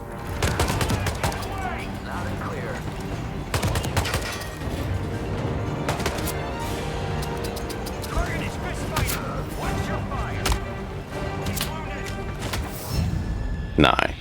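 Shotgun blasts and scattered gunfire in the game Freelancer sound as sharp, irregular bangs over a busy background, with someone talking throughout.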